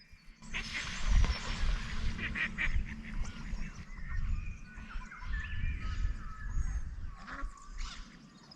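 Geese or ducks honk and call repeatedly from a lake, fairly close, over steady outdoor ambience, with several overlapping birds calling across the whole stretch.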